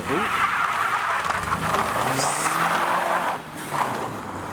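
Nissan 370Z leaving a car show, its engine revving as it pulls away with some tire noise, loud at first and then dropping off, while people talk nearby.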